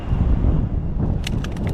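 Steady low rumbling wind buffets the microphone throughout at a riverbank, with a few faint higher rattles near the end.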